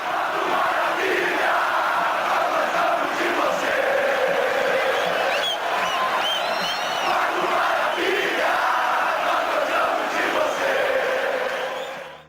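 Internacional football supporters chant as a crowd in a stadium, a dense, sustained roar of many voices singing together at a steady level, fading out only at the very end.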